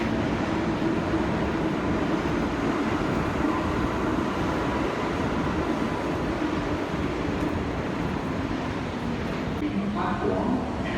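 A New York City subway train rumbles steadily and loudly throughout, a dense unbroken roar of wheels and carriage noise in an enclosed underground space.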